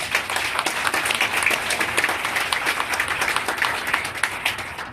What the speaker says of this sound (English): And I think you could give yourself a big applause.